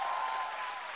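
Audience applause fills a Vietnamese live concert show, a steady even wash of clapping that holds at constant level with no voices over it.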